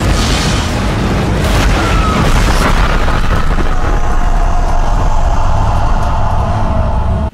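A loud explosion from the B-movie Last Patrol, a big, close boom that opens with a burst and rolls on as a sustained roar and rumble to the end.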